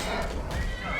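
A horse in Skyrim gives a brief whinny over soft hoofbeats, the call rising and fading within about a second.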